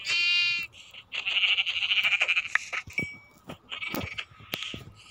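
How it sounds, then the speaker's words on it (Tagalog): Goats bleating in a video game, with a long wavering bleat followed by several shorter quavering bleats and a few clicks, close and loud with no talk. "Dami naman kambing."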